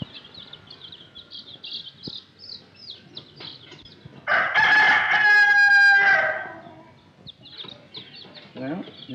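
Chickens cluck and a rooster gives one loud crow in a 1930s comedy film: soft clucking and background activity lead into the prominent crow at mid-clip, then the clucking resumes.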